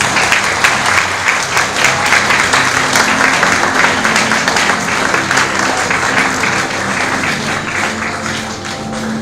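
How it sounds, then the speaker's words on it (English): Guests at an art exhibition opening ceremony give a loud, sustained round of applause, many hands clapping together in a thick, even roar that eases a little toward the close. "Please give them another round of applause."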